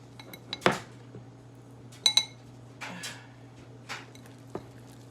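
Doughnut glaze with a pinch of vanilla being mixed in a bowl, a few sharp utensil clinks and scrapes against the dish at irregular intervals, close and distinct over a faint low hum.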